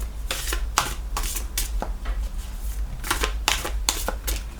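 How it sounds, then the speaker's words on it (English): An oversized tarot deck shuffled by hand, giving a series of crisp riffling bursts separated by brief pauses, close and fairly loud with no talking. "I shuffle these ones a little bit differently because they are bigger than my hand"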